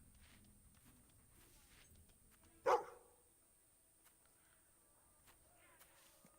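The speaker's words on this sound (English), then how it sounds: "Dog is trying to show me a dig spot." A single short dog bark from the video game Fable 2, sharp and fairly close, standing out once against a quiet, low game-ambience background.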